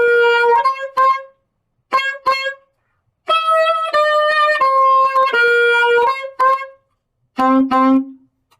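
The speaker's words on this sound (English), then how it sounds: "the alto saxophone sounds like this" An alto saxophone plays short melodic phrases in a band-instrument demonstration, with clear sustained notes broken by brief pauses, ending on a low held note, loud and close.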